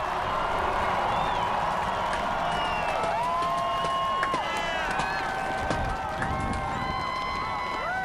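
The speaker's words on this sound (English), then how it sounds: "The immense crowd salutes and applauds the 44th President, Barack Obama, after that inaugural address on the west front of the Capitol." An immense crowd on the west front of the Capitol applauds and cheers after Barack Obama's inaugural address as 44th President, a broad, steady roar of distant clapping with whistles and shouts rising over it.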